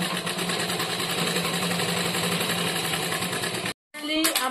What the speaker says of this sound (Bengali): এখন দেখো আমি কিভাবে এগুলাকে মুড়ি দিয়ে সেলাই করছি